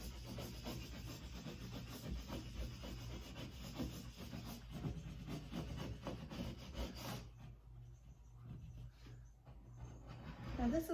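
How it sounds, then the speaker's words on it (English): A scraper rubs and rasps steadily across removable vinyl on a nursery accent wall, smoothing it down in close strokes for several seconds before the sound trails off. "And come in with my scraper."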